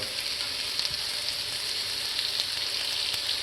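Steady, loud sizzling of smash burger patties frying in a hot cast-iron pan, a continuous crackling hiss with no voices.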